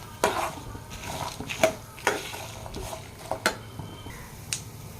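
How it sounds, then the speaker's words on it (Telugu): Dried red chillies are stirred and fried in a pan for chutney, with a soft sizzle under repeated sharp scrapes and clinks of the spoon against the pan, close by, with no voices. "ఇలా ఎండుమిరపకాయలు వేసుకున్నాక బాగా కలుపుకోవాలి."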